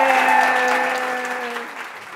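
Audience applause for guest James Bland at the close of a digital-media conversation, a steady wash of clapping that slowly fades over two seconds while faint tonal voices or music hum beneath.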